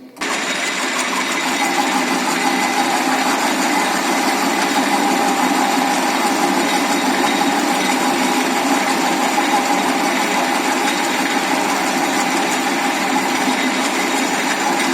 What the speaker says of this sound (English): the next operation will be facing to reduce the length of the workpiece